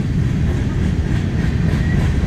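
A BNSF freight train heading eastbound, probably an empty coal train, rumbles past loud and close in the mountains at Skykomish, Washington, with a continuous low roar and faint clatter of wheels.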